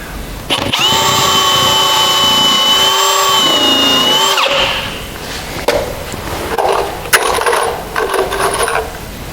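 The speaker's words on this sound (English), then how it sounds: "Just going to throw some screws into that." A power drill drives oversized screws into wood: one steady, loud motor whine that holds for about four seconds, then stops. Scattered clatter and handling knocks follow.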